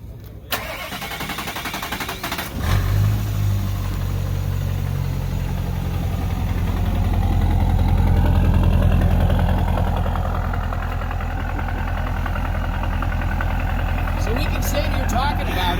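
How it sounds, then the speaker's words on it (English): A Chevy C10 truck with a turbo diesel engine cranks briefly, catches after a couple of seconds and settles into a steady, rumbling diesel idle that continues throughout; the engine runs alone with no speech over it. "it definitely lets you know it's a diesel"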